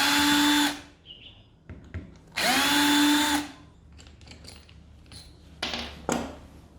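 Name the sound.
power tool removing screws from a cordless impact wrench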